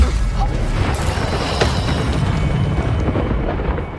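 A Confringo blasting spell explodes in the Hogwarts Legacy game, a loud, sustained rumbling boom with crackling debris and a sharp burst near the middle, filling the whole moment without speech.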